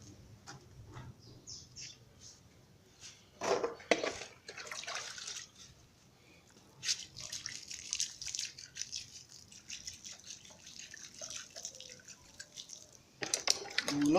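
Water is poured onto an oyster mushroom growing substrate in irregular splashing and trickling bursts of varying loudness, quiet and fairly close, with pauses between pours.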